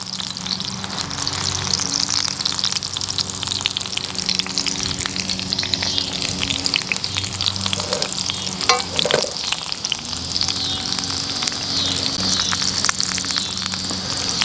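Peppers char and fry in a pan for salsa verde, giving a dense continuous sizzle with crackling spits, close and fairly loud, plus a brief stir or clatter near the middle and no speech.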